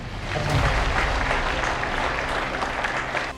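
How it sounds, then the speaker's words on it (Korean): Audience applause at a university president's inauguration ceremony at Hansung University in Seoul, a dense, steady wash of many hands clapping throughout, loud and even. "큰 응원의 박수를 보내드립니다"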